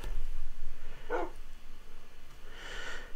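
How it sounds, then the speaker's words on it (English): A wolf dog in Minecraft lets out a short bark, followed a moment later by a softer breathy huff, over a low steady game background hum. "Bark."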